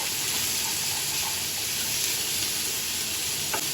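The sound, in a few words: chicken sizzling in a pan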